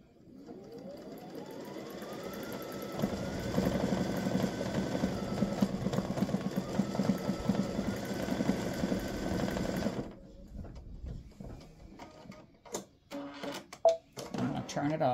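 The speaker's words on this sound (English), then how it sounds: "I know how many times my needle goes down before it starts stitching" Embroidery sewing machine stitching an earring design, a steady fast mechanical whir and needle clatter that rises after a spin-up and then stops, followed by scattered clicks and handling noises, with a person talking.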